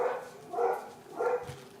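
A dog barks at someone walking by, giving three or four short, muffled barks at an even pace, fairly faint and with no talk over them.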